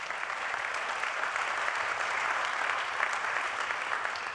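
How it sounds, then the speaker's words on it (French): Steady applause from an audience at an evening launch event, an even, continuous patter of many hands with no pauses, moderately loud and without speech. "applaudissements, je vois"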